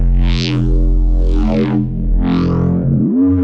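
Neuro bass synth patch built in Phase Plant and Vital: loud, gritty distorted bass drone with three vowel-like formant sweeps that rise and fall, ending in a downward pitch dip, heard alone.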